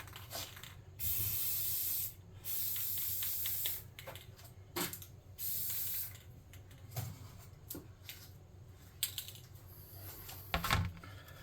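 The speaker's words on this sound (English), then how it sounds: "I'm going to hit it with my clear coat real quick" Clear coat sprayed from an aerosol can in short hissing bursts, four longer sprays then quieter scattered spritzes and light clicks, close and fairly soft with no voices.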